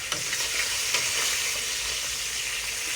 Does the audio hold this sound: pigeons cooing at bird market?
no